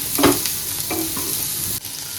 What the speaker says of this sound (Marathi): रेड आणि येल्लो कॅप्सिकम घालून घेणार आहोत आणि त्यालाही आपण ह्याच्यासोबत परतून घेणार आहोत